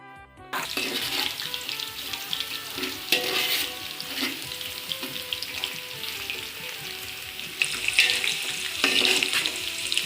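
Onions sizzle and crackle in hot oil in a pan while being cooked for chicken biryani, a dense steady frying hiss with occasional stirring clatter, loud and close throughout.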